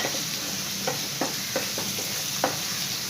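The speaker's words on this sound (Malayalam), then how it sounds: "ഇളക്കി കൊടുക്കാം." Sliced onions frying in a pan with salt for a Kerala fish curry, a constant loud sizzle with several distinct scraping strokes of a spoon stirring them, close and with no talk.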